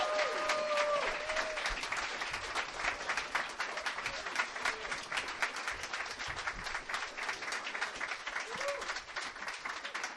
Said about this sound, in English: That was lovely applause, and it made me feel 8 times more self-estimatious.